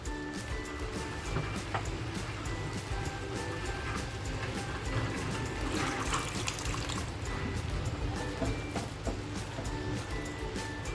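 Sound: water being poured into a pan for paneer masala

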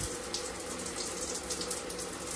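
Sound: hot tap water rinsing a lotion pump

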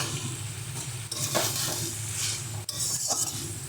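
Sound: stirring spinach and vegetables with fried lentil dumplings in pan

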